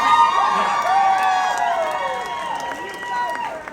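A crowd applauds and cheers loudly and steadily, with shouting voices mixed into the sustained clapping throughout.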